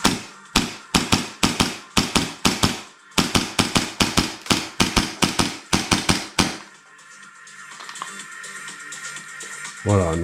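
Airsoft replica firing a rapid burst of sharp snapping shots, loud and close, roughly a dozen-plus evenly spaced cracks, then a quieter mechanical rattle and faint noise after the shooting stops.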